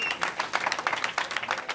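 Crowd applauding a Syrian refugee and his children arriving in Spain: brisk, dense clapping from many hands, moderately distant and steady over a short stretch, with faint voices mixed in.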